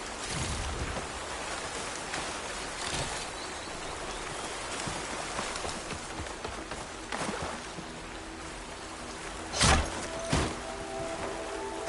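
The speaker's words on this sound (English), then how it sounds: "For now, I was bracing for this rain." Steady rain falls throughout in the video game Horizon Forbidden West, a constant wash of patter with a few louder bursts near the end and no talk.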